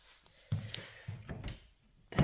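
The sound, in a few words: cabinet drawer being opened and closed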